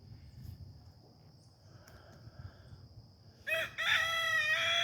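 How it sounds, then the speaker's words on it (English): A neighbor's feral rooster crows loudly and close by near the end, a harmonic cock-a-doodle-doo that follows a stretch of quiet outdoor ambience with faint rustling. "Here's our neighbor's feral chickens."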